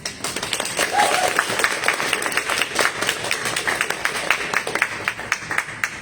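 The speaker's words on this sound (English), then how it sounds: "I encourage you to give a huge round of applause to our participants" At a Toastmasters club Halloween party with a tall tales contest, the crowd applauds the participants, a steady, even wash of clapping from many people that holds for about six seconds.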